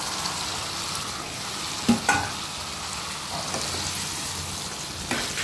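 Pointed gourd goes into a pan of cooked spice paste for a vegetarian Bengali curry: a soft, steady sizzle with a few sharp clinks and scrapes of a spoon stirring, fairly quiet and without talk.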